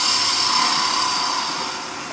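A woodturning tool cutting along the edge of a spinning piece on a lathe, a steady close scraping whir with a bright high hiss that eases off slightly toward the end, no talk.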